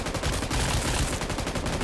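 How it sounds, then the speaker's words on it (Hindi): Rapid automatic gunfire in the mobile battle-royale game BGMI, a loud, continuous stream of overlapping shots with a steady rattling rhythm for the whole stretch. "उसके हाथ पे मैं काफी गोलियां बरसाता हूँ"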